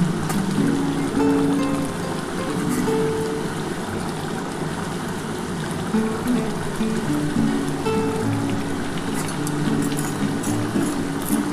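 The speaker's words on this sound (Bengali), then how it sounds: "আমি বন্ধুরা মাছগুলো দিয়ে একটুখানি ফুটিয়ে নিই, ফুটিয়ে তারপর আমি নামিয়ে নেব।" A fish curry with potatoes simmers and bubbles in a pot, making a continuous, fairly loud rolling boil with a dense churn of bubbling that stays steady throughout, with no voices.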